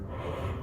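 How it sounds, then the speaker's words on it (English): One quick, deep breath drawn in sharply through the mouth before buzzing into a trombone mouthpiece, a brief soft gasp heard up close and alone. "I'm going to take a deep breath"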